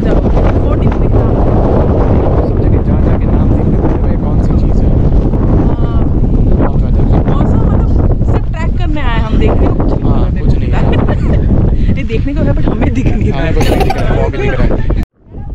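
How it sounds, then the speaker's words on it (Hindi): Strong wind roars and buffets the microphone throughout at Lohagad Fort near Lonavala, India, in heavy rain, a loud continuous rumble with gusty surges, cutting off abruptly at the end. "इतनी हवा चल रही है"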